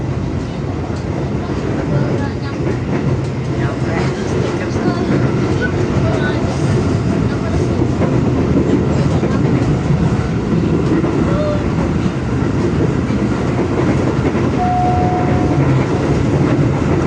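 A KRL commuter train riding out from Lenteng Agung station, a steady loud rumble and rattle of the carriage interior with faint clatter, continuous throughout, with murmured voices underneath.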